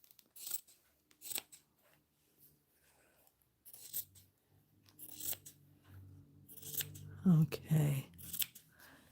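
Scissors snipping paper for a junk journal cover, a few sharp separate cuts with quiet gaps, then a closer crunchy burst of cutting near the end; a voice speaks briefly.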